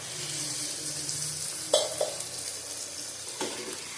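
Water splashes into a pan of frying vegetables, the steady sizzle broken by a couple of sharp spattering bursts up close.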